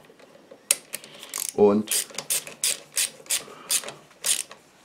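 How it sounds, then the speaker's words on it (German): Ratchet tightening a Peugeot Elyseo 125 scooter's rear drum brake, a series of sharp rapid clicking bursts in an uneven rhythm, close up, after a brief spoken word. "Dazu nehme ich mir natürlich auch die Ratsche."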